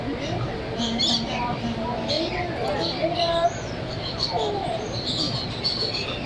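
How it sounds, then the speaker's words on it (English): Assorted birds at a zoo chirp and whistle in repeated short calls over a steady background hum, with people talking nearby. "Some real nice birds over there."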